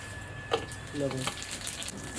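Garlic paste hitting hot oil while spicy red chicken is cooked, giving a steady close sizzle with a sharper burst at the start and a voice talking over it.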